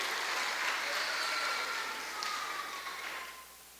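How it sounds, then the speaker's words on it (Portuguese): Congregation applauding during a couples' church service, a steady wash of clapping that fades toward the end. "Aplauda o Senhor mesmo."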